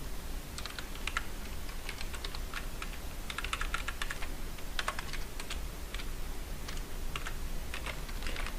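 Quick, steady tapping on a computer keyboard while writing PHP code for password encryption, with irregular bursts of keystrokes over a constant background hiss.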